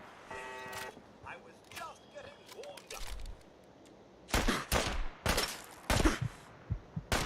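Gunfire in the Fallout 4 video game aimed at the player comes in short bursts of sharp shots, loud and close, in the second half, after quieter game sounds and electronic beeps.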